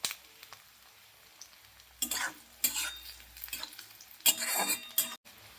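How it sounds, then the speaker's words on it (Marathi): Onion and garlic roasting in a pan for Maharashtrian thecha, with a few short bursts of stirring and sizzling and light utensil clinks over quiet background. "अशा पद्धतीने आपल्याला कांदा आणि हा जो लसूण आहे तो भाजून घ्यायचा आहे"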